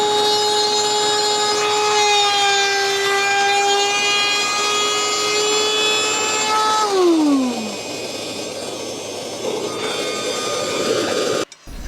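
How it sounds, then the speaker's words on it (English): A table saw fitted with a dado stack cuts a groove in wood, a loud steady whine that drops in pitch as the blade bites and then winds down, ending with a sharp knock. "we're going to drop into this cut 1/2 inch in, and then we're going to finish the cut in the groove here"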